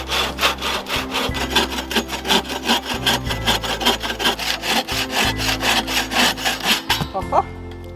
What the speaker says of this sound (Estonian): Ma mõtlesin, et ma teen endale vähe sooja selle saagimisega, enne kui magama lähen.